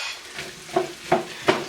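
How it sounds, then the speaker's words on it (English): Sausage, apples and onions are stirred in a hot pan, with three evenly spaced scrapes of the utensil against the pan over a soft steady sizzle, close and clear with no talking. "Then you're going to add your apples right on in there. Stir that up."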